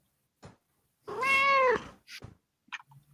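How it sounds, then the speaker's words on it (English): A randomized cat meow sound effect plays once as a single clear, drawn-out meow, close and clean, with a few faint clicks before and after and no talk. "now I have a randomized cat meower"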